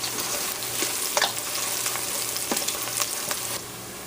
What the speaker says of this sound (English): Meanwhile, our garlic is gonna be fried